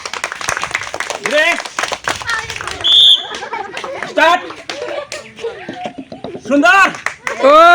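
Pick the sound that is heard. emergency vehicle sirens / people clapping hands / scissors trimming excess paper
people clapping hands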